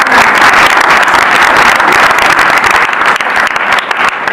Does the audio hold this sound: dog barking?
no